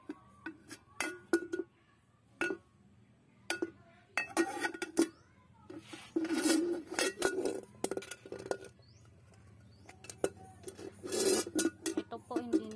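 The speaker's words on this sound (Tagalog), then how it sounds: "Ito na po yung hugasan nating kaldero at saka kawali." Cooking pots and a frying pan being scrubbed and rinsed in a home kitchen, the pans caked with old soot, giving repeated clanks, scrapes and metallic clinks in irregular bursts close by, with a low steady hum underneath.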